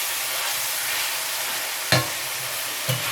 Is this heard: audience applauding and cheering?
no